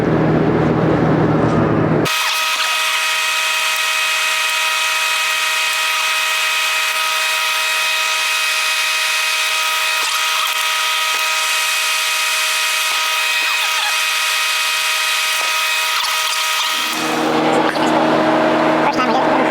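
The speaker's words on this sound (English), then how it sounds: "we'll TIG weld across these" TIG welding on the gas tank of a 1937 Cord mounted on a rotisserie: a close, steady high buzzing hiss that starts abruptly, holds for about fifteen seconds, then cuts off.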